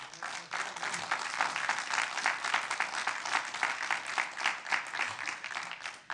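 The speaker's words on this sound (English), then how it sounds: "I hope you take the applause." Steady, sustained applause from the audience at a town council Committee of the Whole meeting in Oakville, a dense crowd clapping that carries on evenly for several seconds.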